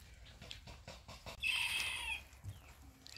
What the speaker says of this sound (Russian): раскукарекались